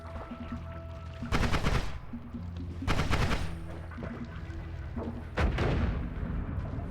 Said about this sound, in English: Got grenade launchers